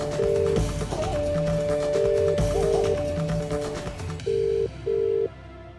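A telephone call rings out unanswered: repeated electronic ringback tones with steady gaps, loud and close over some background sound, before the ringing continues alone in a quieter stretch.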